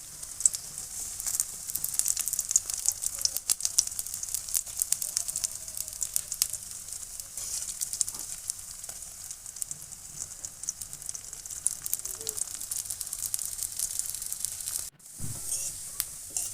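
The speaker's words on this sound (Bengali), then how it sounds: "এবার তেলটা গরম হলে আমি ওই ব্যাটারটা কড়াইতে দিয়ে" Batter sizzles in hot oil in a wok for a sweet fried snack, a steady bright crackling hiss throughout, close and continuous, with a brief clatter near the end.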